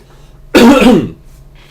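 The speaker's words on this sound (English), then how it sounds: "Sorry about my coughing, guys." A single harsh cough or throat-clear from a man bursts out close and loud for about half a second, with quiet room tone before and after.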